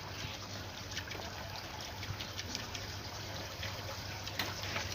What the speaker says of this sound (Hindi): आप ये देखें, यहाँ से देखें, ये पानी आ रहा है